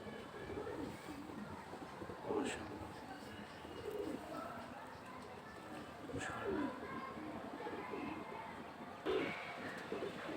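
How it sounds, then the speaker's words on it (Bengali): Soft, low pigeon coos repeat every couple of seconds, murmuring under a person's speech. "সুপার কবুতর মাশাল্লাহ এ হচ্ছে কবুতর"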